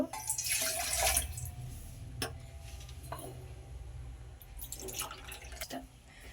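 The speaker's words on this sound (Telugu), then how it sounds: "నీళ్లు పోసుకుందాం ఈ గ్లాస్తో" Water poured from a glass into a pot for making tea, a brief splashing burst at the start followed by a few faint clinks and drips in a quiet kitchen.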